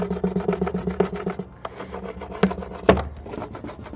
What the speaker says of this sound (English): I'm using a putty knife